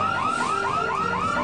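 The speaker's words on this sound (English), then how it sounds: "Oh, we've set off an alarm." An alarm sounds loudly and continuously. Its electronic warble repeats in quick, regular rising sweeps, with no other sound over it.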